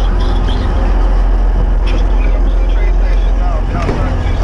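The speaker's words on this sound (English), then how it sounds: "I can't hear you because this train's really loud." A loud train rolls along with a heavy, steady rumble that fills the whole clip, a dense low roar with rattling noise above it and no break.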